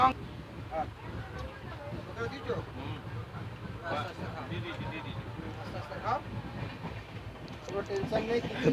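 Steady rumble of a moving Saraighat Express carriage with rhythmic rail noise underneath, while people chat over dinner nearby throughout.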